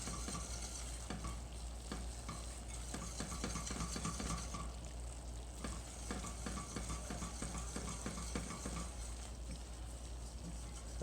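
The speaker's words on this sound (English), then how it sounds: "I usually kind of scrape the sides a little bit." A roux is stirred and scraped around a pan, giving a steady bed of sizzling with repeated soft scraping strokes throughout and no voices.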